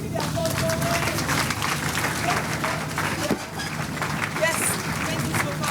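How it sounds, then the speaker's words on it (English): An audience at a formal event applauds a speaker coming forward, a steady crowd clapping mixed with talk. "A round of applause, please, as she comes forward to give us her speech."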